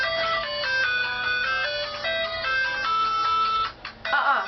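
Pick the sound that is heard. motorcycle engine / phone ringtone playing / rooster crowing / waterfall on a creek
phone ringtone playing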